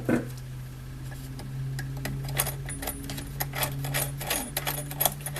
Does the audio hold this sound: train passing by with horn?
no